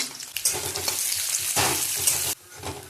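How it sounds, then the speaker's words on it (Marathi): Steady oil sizzling as onions fry in a pan with bay leaves, with occasional stirring scrapes and a brief louder burst midway, close and continuous. "अगोदर आपण कांदा तळून घेऊ"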